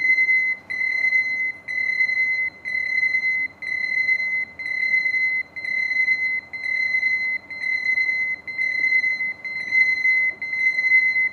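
An alarm on a Focus Atlas-1311 UV printer with Ricoh G5i printheads beeps steadily while ink loads, a loud, even pulse repeating about once a second throughout, with no voices.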